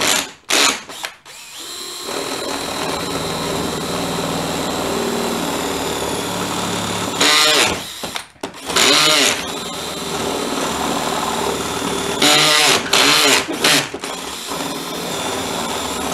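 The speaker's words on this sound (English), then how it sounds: "Should really be using a smaller bit. I'm getting shavings all over the place." Power drill boring into a Stern Hot Hand pinball machine, a loud sustained whir in several long bursts separated by short pauses and clicks, close up.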